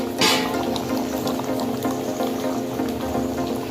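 Arachuvitta sambar with toor dal bubbles in a pot, a steady soft burbling simmer with faint popping, close and even throughout, with no voices.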